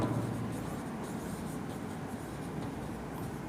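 Steady, close scratching of chalk or marker on a board as a maths teacher writes the word quadrant, a continuous dry scraping with no talk over it.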